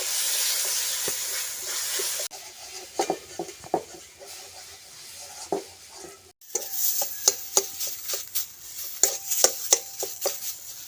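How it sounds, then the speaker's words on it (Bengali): Green peas frying in hot oil with salt, dry-roasted while being stirred: a steady hiss runs through, broken by a run of sharp scraping and clattering taps that grow more frequent near the end. "তেল গরম হয়ে গেছে বেঁচে রাখা মটরশুঁটিটা তেলের মধ্যে দিয়ে দিচ্ছি অল্প পরিমাণে লবণ দিয়ে দিচ্ছি শুকনো শুকনো করে কষে নিচ্ছি"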